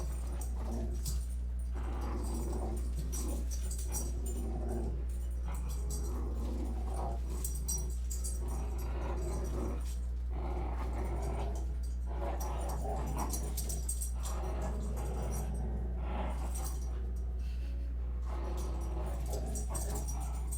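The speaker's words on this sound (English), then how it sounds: "we've got some doggos here making noise" Dogs wrestling and playing nearby, with scattered whimpers, yips and low growls in irregular bursts under a constant low hum, and a voice talking at times.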